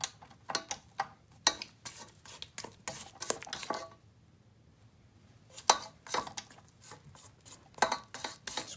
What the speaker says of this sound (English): I'm going to go ahead and scrape down the sides.